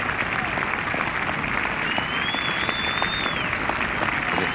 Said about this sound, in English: They deserve every hand clap that they get.